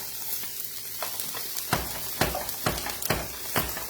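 Brussels sprouts and broccoli frying in a hot pan for orecchiette, a loud continuous sizzle broken by frequent sharp pops and crackles close up.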